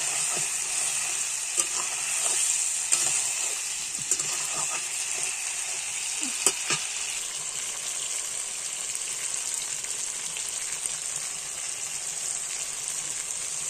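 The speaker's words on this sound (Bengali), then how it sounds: "চিকেনটার কালার আসছে তাতে, এভাবে না ঢেকেই আমি কষিয়ে নেব অনেকক্ষণ ধরে।" Chicken frying uncovered in a pan, with a steady, loud sizzle throughout and occasional stirring clicks and scrapes over the hiss.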